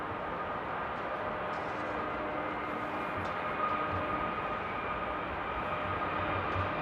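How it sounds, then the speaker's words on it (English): A Ryanair Boeing 737 Max 200 taking off at Amsterdam airport produces a continuous, heavy engine roar that holds steady and fairly distant, with no voices over it. "the 737 Max 200 here by Ryanair"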